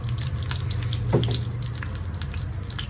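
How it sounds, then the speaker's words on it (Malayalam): A spoonful of mustard seeds in two spoons of hot coconut oil, tempering for an okra theeyal: a steady, loud sizzling hiss with small scattered pops and crackles throughout. "രണ്ട് സ്പൂൺ വെളിച്ചെണ്ണ എടുത്തു ഒരു സ്പൂൺ കടുക് ഇട്ട് കൊടുത്തു"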